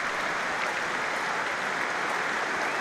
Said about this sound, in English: a really well-respected round of applause from those Crusaders fans that are here in their numbers as well tonight at Ashton Gate